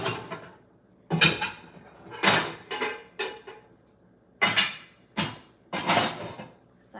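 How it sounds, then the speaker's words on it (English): Metal cookware clanks and rattles in a home kitchen as a frying pan is pulled out, several sharp separate knocks and clatters spaced over a few seconds with quiet between. "So now I'll get my frying pan."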